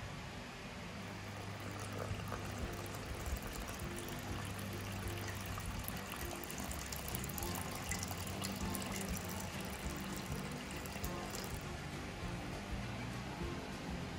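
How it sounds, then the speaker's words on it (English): Liquid mixture being poured gently into a well of flour for homemade bacon and cheese pizza dough, a soft continuous trickling pour, close and faint, with no voices. "gently pour your liquid mixture"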